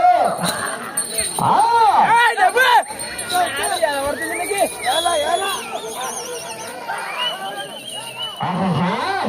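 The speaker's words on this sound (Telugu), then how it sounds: "కేకలు కేరింతలు" Spectators at a village bullock-cart pulling contest shout and cheer loudly and continuously, with many rising and falling voices overlapping in a dense crowd roar and occasional bell-like tones.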